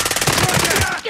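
Rapid automatic gunfire in a Resurgence match of a shooter video game. A loud, close burst of evenly spaced shots that stops abruptly near the end, with a voice faintly mixed in.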